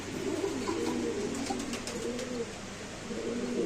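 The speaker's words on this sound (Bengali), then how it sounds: "এখানে আছে একজোড়া মাক্সি রেসার কবুতর" A pair of Maxi racer pigeons coo in soft, repeated rolling phrases close by, over a steady background hum at a pigeon market.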